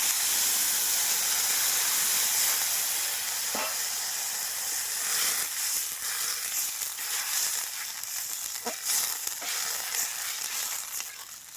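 Broth is poured into a pan of fried bele fish and chillies, raising a loud, dense hiss and steam that slowly eases, with occasional scraping stirs.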